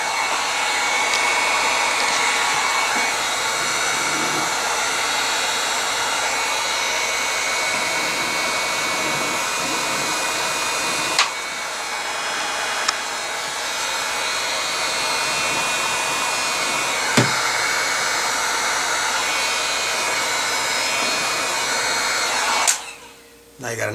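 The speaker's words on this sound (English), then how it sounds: "I just use the heat gun" A heat gun blows hot air steadily onto a wire connector during a low beam repair on a 2005 Volvo S60, a loud continuous whoosh held for the whole stretch, with a few faint clicks and a brief drop near the end.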